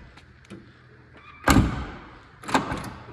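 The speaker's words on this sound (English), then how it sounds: "I'll show you how this door closes." A 1967 Camaro V8 car door swings and shuts twice, a loud solid slam followed about a second later by a second, slightly softer thunk, with faint handling clicks beforehand.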